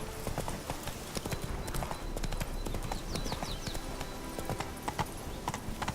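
Hooves of the horse Roach trotting in Witcher 3, a steady, close clip-clop rhythm over low ambient game noise, without talk.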